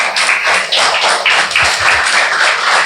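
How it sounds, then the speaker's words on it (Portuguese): A church congregation applauding during a sermon, loud and close, a dense steady stretch of many hands clapping with uneven pulses, no talk over it. "Você pode aplaudir a Jesus?"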